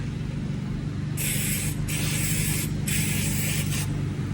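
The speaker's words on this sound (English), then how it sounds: "I am going to go ahead and spray the inside" Two quick pairs of hissing spray bursts inside a bowl used as a concrete mold, each a short sharp spritz, close by over a low background hum.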